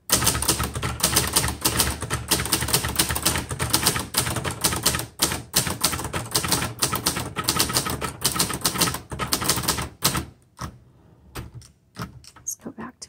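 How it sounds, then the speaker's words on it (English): A 1969 Hermes 3000 vintage typewriter typed on in rapid, dense keystrokes, loud and close, for about ten seconds before slowing to a few scattered key strikes. "it really does feel like a brand new typewriter"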